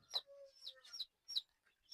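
Tiger-breed chicks and chickens in a brooding pen on a poultry farm give several short, sharp clucks and chirps in quick bursts with brief pauses between them. The calls are close and no one speaks.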